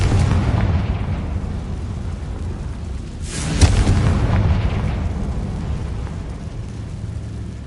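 A Confringo spell explosion in Hogwarts Legacy, one rumbling blast midway through a steady roar of game noise, with no voices.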